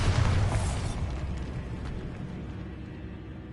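A Bombarda blasting spell goes off in Hogwarts Legacy with a loud, booming burst at the start that rumbles and slowly decays into a fading tail of debris.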